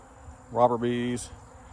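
A short, close buzzing drone of honey bees at a weakened apiary hive rises and holds for about half a second, then cuts off, over quiet background.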